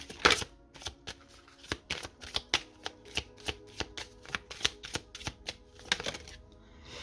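Oracle cards being shuffled by hand close up, giving a quick, regular series of crisp slaps and flicks, about two per second, with a louder riffle at the start and no talking.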